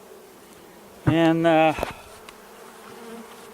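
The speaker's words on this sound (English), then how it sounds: "lots of bees here" A honeybee buzzes loudly and close for about a second in early spring around a hive under its inner cover, a sharp steady drone over a quiet background, with a faint spoken word nearby.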